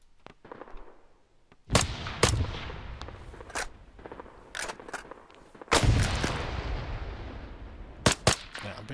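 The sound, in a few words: M14 DMR rifle gunfire in ARMA 3 video game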